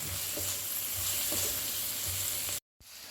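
Onion, green chillies, pepper powder, garam masala and turmeric stirred in a pan for a green peas egg masala, sizzling steadily and loudly with soft scraping strokes, then a brief cut to near silence before the frying resumes.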